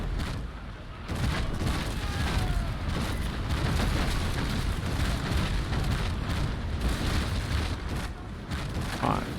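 Ship cannons fire in a Naval Action sea battle between a third-rate and first-rate ships, a sustained rumbling barrage of booms and crackling impacts rolling on for several seconds under faint talk.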